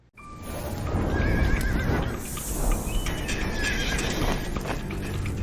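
Purebred Arabian horses at a show in Qatar neigh and whinny loudly over a steady crowd-like background, with hooves clip-clopping, nearby and continuous for several seconds.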